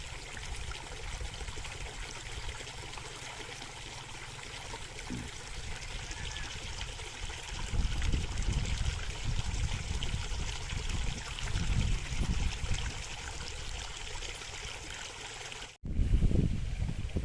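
Irrigation water trickles and pours continuously at a low, steady level outdoors, with a faint background hum of a running pump motor and a short break near the end.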